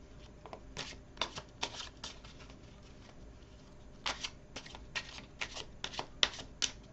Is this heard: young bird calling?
no